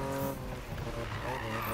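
In the Need For Speed 2015 video game, an upgraded BMW drifts with a sustained, loud tire squeal and skid blended with engine noise, continuous throughout.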